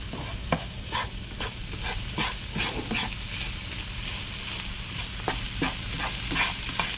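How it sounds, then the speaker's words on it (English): Spaghetti sauce sizzling in a frying pan, stirred and scraped with a utensil in a series of sharp close scrapes over a continuous hiss, no talk. "When you stir things around, it'll come up high and get stuck to the side of the pan."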